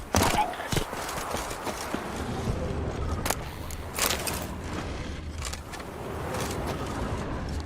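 Roach's hooves clop steadily in The Witcher 3 as the horse gallops along, a close rhythmic clip-clop with a few sharper thuds, under faint background sound and some talk.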